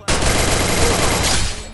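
Sustained burst of rapid gunfire in a mobile shooting game played during a tournament on an iPhone XR: a loud, dense rattle of shots lasting nearly two seconds, then a brief fade.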